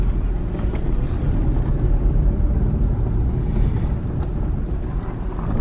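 A car drives steadily along a road near the border at Del Rio, Texas, with continuous low road and engine rumble heard from inside the cabin and no speech.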